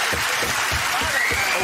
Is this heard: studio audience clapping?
yes